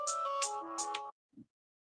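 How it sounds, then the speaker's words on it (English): A phone ringtone plays a short melodic chime of a few bright notes, close and clear, then cuts off abruptly into silence with a faint low thump. "Oh, it was a phone call."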